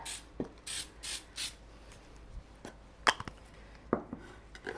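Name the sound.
spraying cooking spray into baking pan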